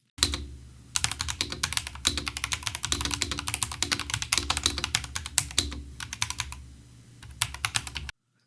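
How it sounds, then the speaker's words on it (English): Fast, clicky typing on an Ajazz AKC087 mechanical keyboard in close, crisp bursts with brief pauses between runs of keystrokes. "Here's how it sounds like"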